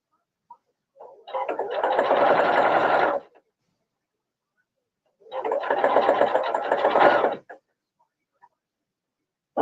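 A sewing machine stitching clear vinyl for a child's tote bag runs in two steady bursts of roughly two seconds each, with a quiet pause between them and no talking.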